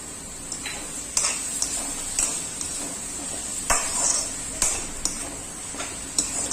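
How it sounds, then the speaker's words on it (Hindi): Garlic ginger paste fries in oil in a pan with a steady sizzling hiss, broken by repeated sharp scrapes and clinks of a spoon stirring against the metal. "ताकि हमारा लहसुन अदरक का पेस्ट अच्छे से भुजा जाए।"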